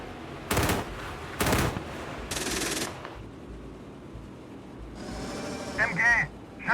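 Bursts of machine gun fire in a PC tank game featuring a Marder A1 IFV, three loud rapid-fire volleys in quick succession, followed by a voice shouting over rumbling engine noise.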